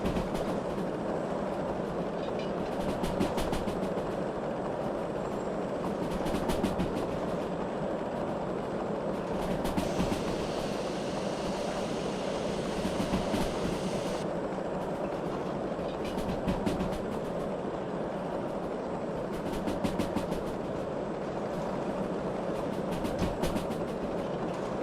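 A train rolls past with a steady rumble and repeated rhythmic clatter of wheels over rail joints, continuous and fairly close throughout.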